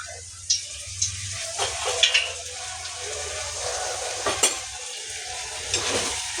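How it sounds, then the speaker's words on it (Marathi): Chicken gravy masala with turmeric fries in oil, a soft, steady sizzle close by, broken by repeated knocks and scrapes of a spoon stirring the pan every second or so. "मी छान तेलामध्ये फ्राय करून घेऊया आपण हळद घालून घेऊया थोडीशी"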